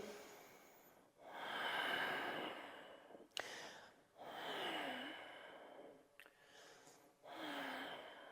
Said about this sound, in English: where the technique comes into play is you want to have that same exhalation, but we're going to do it with the mouth closed. So I'll breathe in.